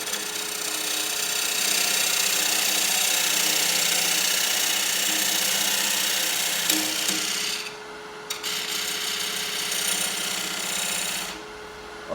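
A diamond parting tool cuts a dovetail into purpleheart wood, giving a steady continuous rasping grind that holds for most of the span. It drops away briefly near the middle and again at the end.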